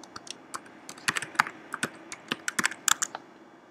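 Fingers tap on a computer keyboard while typing a username and password, with irregular bursts of sharp, close clicks, sparse at first and then quickening into fast clusters.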